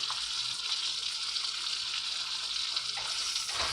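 Beef steak sizzling steadily in a hot pan, being cooked well done; a constant, close hiss of frying fat with no talking over it.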